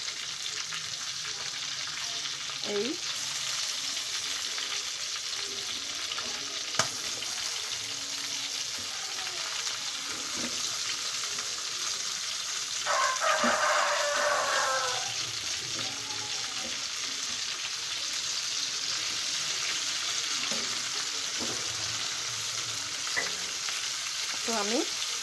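Homemade chicken grill pieces sizzle and fry steadily in a pan, with a continuous hiss throughout and occasional clinks of stirring or turning; a brief word is spoken once.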